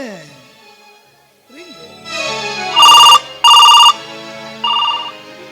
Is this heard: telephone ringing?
yes